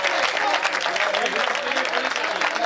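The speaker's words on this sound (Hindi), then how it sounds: "बजाओ ताली" Audience applause at a Hindi kavi sammelan poetry gathering, a dense, continuous clapping from a crowd lasting a few seconds.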